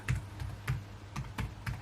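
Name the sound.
typing an email on a computer keyboard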